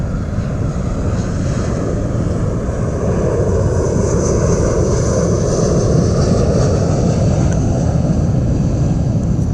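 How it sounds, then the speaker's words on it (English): Loud continuous drone of an airplane engine passing overhead near a bass fishing spot, a steady close roar with a slowly shifting whine and no talk. "Here comes another plane"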